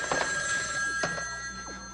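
A telephone rings with bright, trilling bell bursts, moderately close, over a faint background hum and with no talk.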